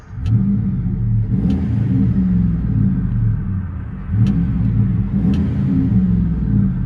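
A deep, steady V8 exhaust rumble from a 5.7L HEMI Dodge Ram pickup with a Flowmaster 40 exhaust fills the clip from inside the cab, a continuous low drone with a few faint clicks over it.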